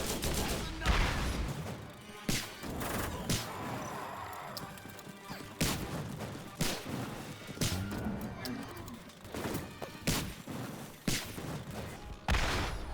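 Repeated gunfire in the Borderlands video game: bursts of sharp shots and crashing impacts come at irregular intervals over a busy game soundscape, with some voice underneath.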